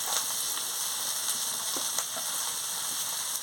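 Turmeric and chilli powder sizzle in oil in a pan of prawn curry being stirred, a soft, even hiss with occasional faint scrapes and taps, fairly quiet with no voices.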